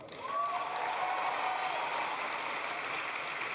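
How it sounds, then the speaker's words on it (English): An audience at a political roundtable breaks into applause, a steady, dense wash of clapping that holds at an even level for several seconds, with a faint voice audible near the start. "You knew you'd get an applause line out of that"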